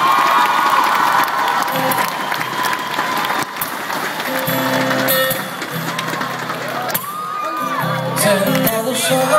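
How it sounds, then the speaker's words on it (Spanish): A concert crowd at Altos de Chavón applauds and cheers loudly, with whoops and shouts rising over sustained clapping while a voice is heard through the noise. "Señores, un gran aplauso. Por favor, para él."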